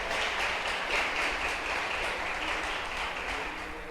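A church congregation claps together in sustained, even applause that holds steady for several seconds, at a moderate level with a dense wash of hands.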